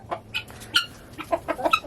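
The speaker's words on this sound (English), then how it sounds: "The chickens are happy." Chickens cluck close by inside a greenhouse chicken coop in a quick run of short, bright calls, several birds overlapping.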